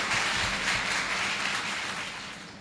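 Audience applause for a student speaker at a university Kashmir Day speech competition, a steady wash of many hands clapping that holds for a few seconds and thins slightly at the end, with no voices over it.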